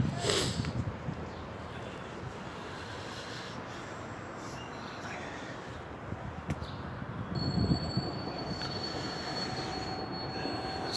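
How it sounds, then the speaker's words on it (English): A type G1 train on Berlin U-Bahn line 1 pulls in with a steady rumbling roar and metallic wheel squeal, joined later by a thin high whine as it slows, with no talk over it. "So here comes the next underground rail."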